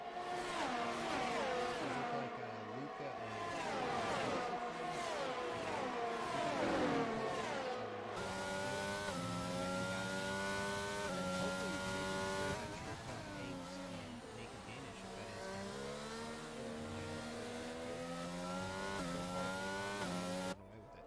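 F1 22 video game race with McLaren and Haas cars battling wheel to wheel, layered engine whines rising and falling steadily throughout, loud and continuous with shifting pitch as the cars accelerate down a straight.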